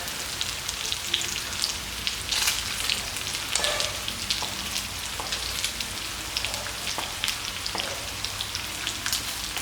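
Chopped onion sizzles in hot oil in a frying pan for a beef and lamb curry, a steady crackling hiss with scattered sharper pops throughout, moderately close and with no talking.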